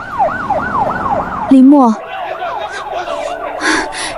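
A wailing emergency siren sweeps up and down steadily throughout, loud and close, interrupted briefly by a short burst of talk midway, with voices continuing over the siren toward the end.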